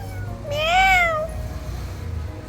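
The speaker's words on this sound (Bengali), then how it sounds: "ম্যাও ডাকছে আমার ম্যাও" A single clear cat meow, close and fairly loud, rising then falling over about a second, with a low steady hum underneath.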